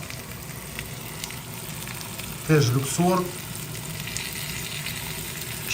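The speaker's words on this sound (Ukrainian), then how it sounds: "М'ясо смажиться" Steady broadband sizzle of meat frying in a pan on a Luxor ceramic glass cooktop, continuous throughout, with a brief voice speaking in the middle.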